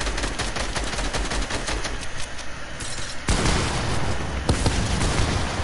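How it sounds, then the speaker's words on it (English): Heavy, continuous video game gunfire rattles close and loud throughout, with overlapping bursts, a sharp change in intensity midway, and some booming impacts. "Can you stop shooting at me?"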